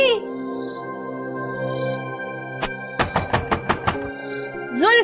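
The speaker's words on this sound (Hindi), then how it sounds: "जुल्फी के बच्चे, दरवाजा खोल" Rapid series of about seven sharp knocks on a door in a Pakistani TV drama scene, loud and close, with a voice calling out before and after the burst.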